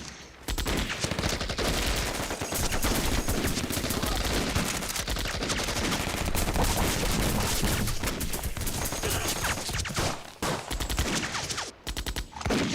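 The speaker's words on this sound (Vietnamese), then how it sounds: "Súng máy yểm hộ." Sustained machine gun fire from a guerrilla war action film, dense rapid bursts running almost nonstop at high volume with brief gaps near the end.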